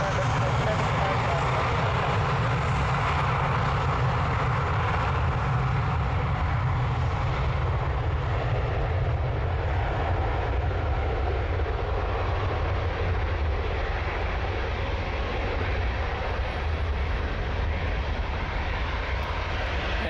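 Heavy airliner taxiing at Lisbon Airport, a continuous loud jet engine roar with steady broadband rumble and hiss throughout, holding level for the whole stretch.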